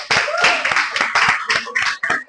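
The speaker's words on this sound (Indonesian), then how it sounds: "tepuk tangan dulu buat temannya yuk" A primary school class claps together in a classroom, loud bursts of hand clapping in quick uneven rhythm close by, with a few voices mixed in.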